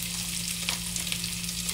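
Garlic fries in a hot pan for a pot of chicken tinola, giving a dense, steady sizzle with a few louder crackles and pops, close up and alone with no voices.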